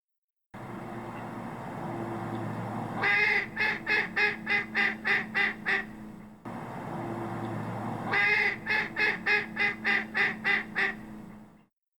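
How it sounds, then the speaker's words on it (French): A mallard duck gives a run of about eight evenly spaced, loud quacks over a steady background hum, and the same call sequence repeats a second time. "Canard colvert."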